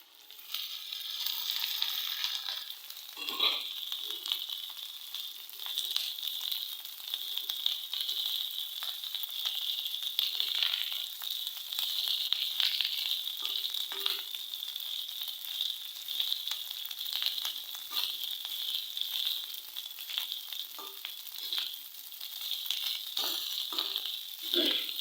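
Rice sizzles and fries steadily in a hot pan for Assamese fried rice, a continuous bright crackle with occasional soft stirring scrapes, close and uninterrupted, no voices.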